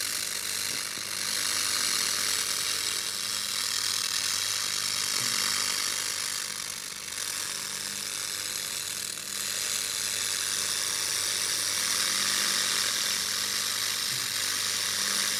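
A laser rust remover stripping several coats of paint off a steel jack stand gives a constant high, hissy whir with a faint low hum beneath, steady and close for the whole stretch.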